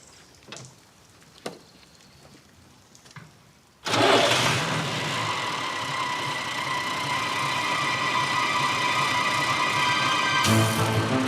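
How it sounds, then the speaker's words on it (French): A few faint clicks and knocks, then a tractor engine cranks and catches, roaring into a loud, steady rumble that continues, rising slightly near the end. "Je vais te faire écouter le bruit du moteur"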